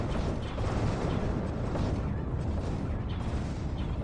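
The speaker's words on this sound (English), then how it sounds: "The mothership is under attack. So many explosions." Dense, continuous rumbling barrage of explosions and artillery-like blasts as the mothership comes under attack in the space strategy game Homeworld, loud and unbroken throughout with no clear gaps.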